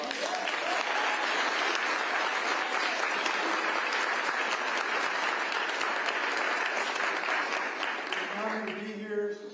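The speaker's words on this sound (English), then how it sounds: "Let's give them a round of applause." Loud sustained applause from an audience at a Washington governor's bill signing on environmental justice, cheering tribal communities; the clapping runs continuously before a voice begins speaking at the end.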